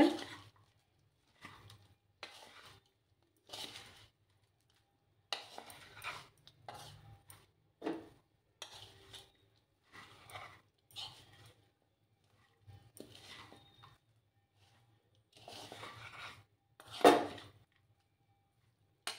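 A spoon scraping and clinking in a bowl while mixing puffed rice cutlet mixture, short irregular bursts of stirring separated by quiet pauses, close and fairly soft.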